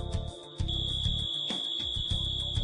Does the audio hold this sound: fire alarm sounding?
yes